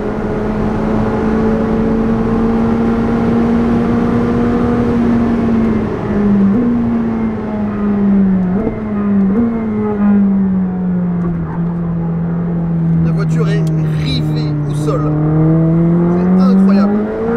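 McLaren 765LT supercar accelerating hard past a Porsche GT2 RS on a track, a loud sustained engine note climbing and shifting through gears as it pulls by, with people talking over it.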